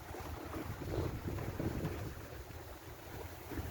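A sailboat running at around five knots offshore at sea gives a steady rush of wind buffeting the microphone over low water wash and hull noise, with no voices.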